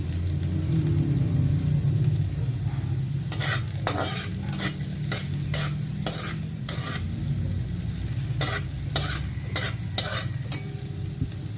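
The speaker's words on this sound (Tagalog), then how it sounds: "saka natin siya gisahin muna natin tong mga sibuyas" Onions and garlic sautéing in cooking oil: a continuous hiss of frying with a string of sharp scraping stirs from a spatula, loud and close, and no voices.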